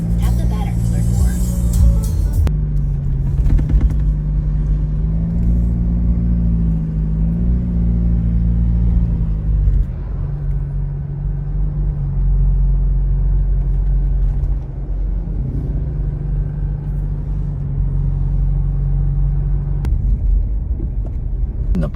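A 2020 Toyota HiAce Commuter van driving along a road, heard from inside: a constant low engine and road rumble with slight pitch changes, while people talk over it.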